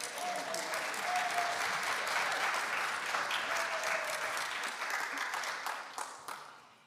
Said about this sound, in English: Big applause to everyone.